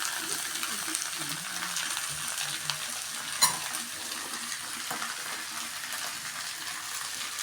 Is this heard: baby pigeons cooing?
no